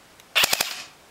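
A Classic Army electric airsoft MP5 fires a short full-auto burst of about three sharp, close, loud cracks in quick succession, then goes quiet.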